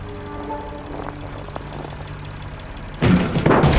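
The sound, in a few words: diesel generator engine running, video game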